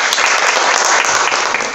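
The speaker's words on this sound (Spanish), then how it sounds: "un aplauso" An audience applauds a journalist introduced at a magazine launch event in Bolivia, with dense, steady clapping close and loud throughout.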